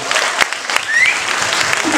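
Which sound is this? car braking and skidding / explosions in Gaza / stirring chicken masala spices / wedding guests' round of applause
wedding guests' round of applause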